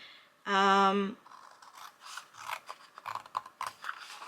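Paper being cut by hand with scissors, a short bright snipping burst followed by quieter irregular rustling and crisp cutting sounds, close up.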